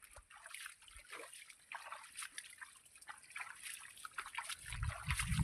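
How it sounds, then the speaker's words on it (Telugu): Irrigation water trickling and flowing through a chilli field, a soft continuous liquid dribble with small splashes, growing a little louder and fuller toward the end, with no talk over it. "నీళ్ళు మాత్రం పోతూనే ఉన్నాయి"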